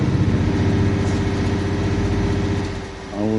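Truck engine loop from the PS5 game Alaskan Road Truckers, a steady droning hum holding one unchanging tone throughout, with a brief dip and shift near the end.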